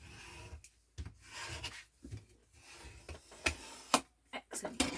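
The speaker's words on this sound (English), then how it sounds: "Let's give that a quick burnish as well." Burnishing tool rubbing tape onto card for a craft mini album, a series of short scraping rubs and taps in an irregular rhythm, close and fairly quiet.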